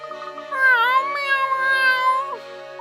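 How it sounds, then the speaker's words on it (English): A cat in the game Professor Layton and the Unwound Future lets out a single long, clear, drawn-out meow, close and alone. "Oh, hello there, Mr. Cat."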